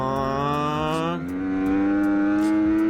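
A motorcycle engine on a race track winds up hard, its pitch climbing steadily, dips briefly as the rider shifts, then pulls strongly again, loud and close.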